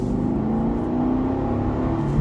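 A naturally aspirated V8 in a stick-shift, rear-wheel-drive sedan hums at a steady, sustained drone heard from inside the cabin, swelling slightly toward the end, with no talking.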